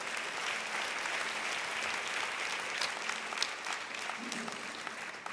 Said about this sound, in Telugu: దేవునికి ఒకసారి గట్టిగా చప్పట్లు కొడదాం.